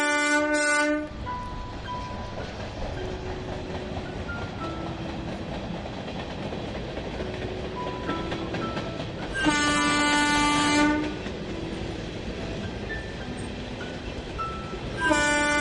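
Cartoon train rolling along the tracks with a steady rumble, its horn sounding in a short blast at the start, a longer clear blast in the middle and a brief one at the end.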